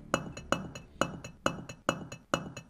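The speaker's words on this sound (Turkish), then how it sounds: "Yarım saatte bir taş kırılmaz mı ya?" Stone being struck and broken in the winter survival game Island Survival - Winter Story, six sharp repeated clinking hits at a steady rhythm, each with a short ringing tail, close and alone.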